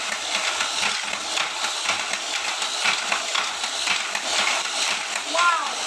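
An Auldey Vanguard Sonic Mini 4WD toy car's small electric motor running on fresh batteries, a continuous high, thin buzzing whir with faint rattling, close to the listener.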